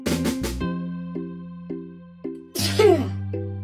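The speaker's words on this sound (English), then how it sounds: "The sound of sneezing." A cartoon-style sneeze from a children's human-sounds lesson, one short burst over bouncy background music.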